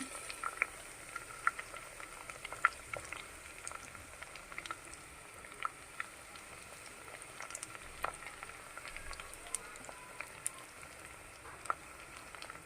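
Chopped onions and green chillies frying in oil in a pan for a ridge gourd curry, a steady soft sizzle with small crackles and pops, close and continuous, with no talk.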